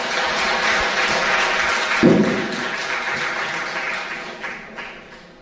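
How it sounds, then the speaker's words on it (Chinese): Audience applause at a Presbyterian church revival seminar: steady, dense clapping fills the whole stretch, with a brief thump near the middle before it slowly thins out. "我们掌声欢迎哈"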